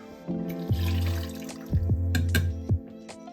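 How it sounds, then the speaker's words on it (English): Vinegar poured into a bathroom cleaning mix along with rubbing alcohol, a short liquid pour with a few splashy glugs and trickles over about three seconds, close and fairly quiet with no talking. "So we're going to go ahead and mix this up. So 100 mils of vinegar,"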